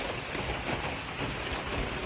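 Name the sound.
rain falling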